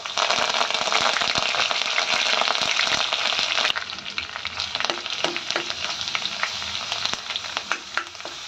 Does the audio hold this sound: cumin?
yes